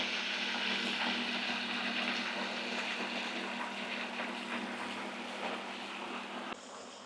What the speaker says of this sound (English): Right, that is pumping.